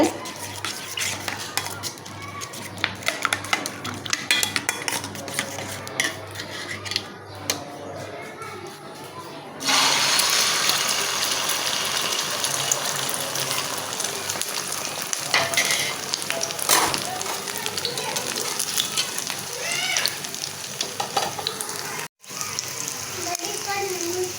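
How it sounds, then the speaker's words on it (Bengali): Two eggs fry together in a pan for breakfast. A quieter stretch with clattering and running water gives way to a loud, steady sizzle that continues to the end, with someone talking over it. "তো বন্ধুরা সকালে নাস্তা খাওয়ার জন্য ডিম ভেজে নিছি নিতাছি এখানে দুইটা ডিম একসাথে আছে"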